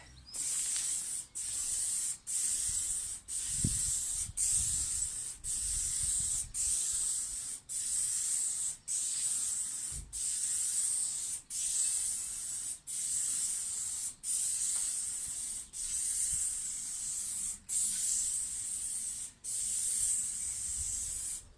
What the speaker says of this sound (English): I'll spray the whole bonnet in primer